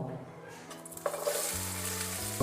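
Bay leaves and whole spices frying in hot oil for a Konaseema coconut rice and chicken curry meal, a close sizzle swelling into loud crackling, with a low hum beneath and no talk.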